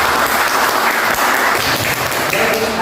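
Classroom audience clapping together in a dense, steady burst of applause at close range, filling the room for a few seconds.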